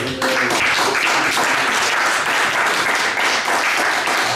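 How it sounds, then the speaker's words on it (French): A church congregation applauds loudly and continuously, a thick, sustained roar of many hands clapping up close, with no pauses from start to finish. "Est-ce que nous pouvons applaudir le Seigneur?"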